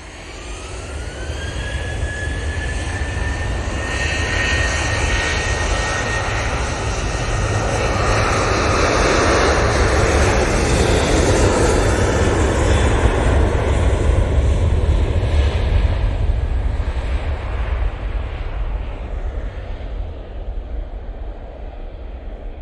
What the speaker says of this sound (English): We have the Easyjet from Amsterdam coming in next.